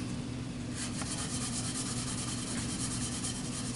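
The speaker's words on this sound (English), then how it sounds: "But I Scotch-Brite it with the grain" A Scotch-Brite pad rubs along a metal plate with the grain, a steady close scrubbing hiss with faint rhythmic strokes that carries on alone for a few seconds.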